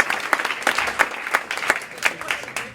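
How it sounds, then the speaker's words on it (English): Audience applause at a youth employment conference fills the room, dense steady clapping with sharp individual claps popping out, loud and continuous with no voices over it. "So please give them a huge round of applause."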